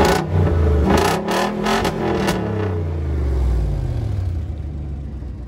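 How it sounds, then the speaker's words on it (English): A Range Rover P38 V8 with a rumbly exhaust idles and revs up close, a loud, deep burbling roar that swells and settles over several seconds. "we do have a bit of a rumbly exhaust, if you like V8s"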